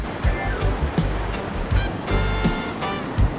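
Ocean waves wash steadily onto a sandy beach during a crab hunt, a continuous close roar of surf with swelling surges.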